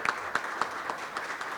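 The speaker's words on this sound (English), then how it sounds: "please join me in a huge round of applause" Applause at a Fresno County news conference, a short burst of many hands clapping in a steady, dense patter.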